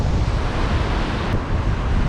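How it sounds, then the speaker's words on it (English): Ocean surf at La Perouse's Bare Island near Sydney, Australia, a continuous loud roar of breaking waves mixed with strong wind buffeting the microphone, no clear separate crashes. "Those boys there are gonna get some big smash by those waves"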